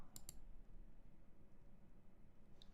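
A couple of quick computer mouse clicks near the start, close and crisp, while selecting a configure option in Oracle Eloqua software, followed by quiet room background.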